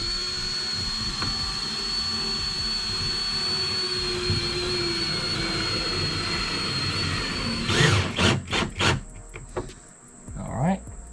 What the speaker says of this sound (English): I'm going to go ahead and get one of these screws installed here. Get it drilled in.